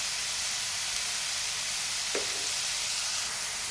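Chopped onion and green chili sizzle loudly and steadily in hot oil, a dense unbroken frying hiss with one brief clack partway through and no voices.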